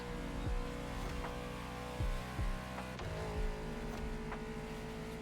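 Car engine in the video game The Crew Motorfest, a quiet continuous hum with several short rev bursts and gear-change dips.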